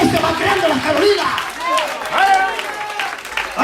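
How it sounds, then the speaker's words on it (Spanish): A church congregation applauding, broad clapping rising and falling beneath loud, excited voices and shouting that carry over the noise of the crowd. "Es fuerte ese aplauso al Señor"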